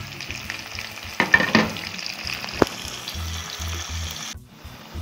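A pot of Banga palm fruit soup bubbles and sizzles steadily over the heat, with a few sharp clinks and scrapes of a utensil partway through.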